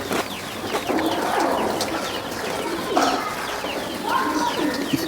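Pigeons coo in a loft, with several soft, rolling coos and bird calls repeating over a steady background hum; no talk is heard.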